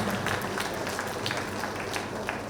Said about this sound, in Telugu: వారికి గట్టిగా చప్పట్లు కొట్టుకుందాం